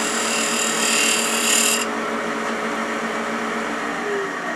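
8mm carbide woodturning tool cutting spinning wood on a lathe, a loud continuous whirring hum with a hissing bite for the first couple of seconds that then eases into a steadier drone.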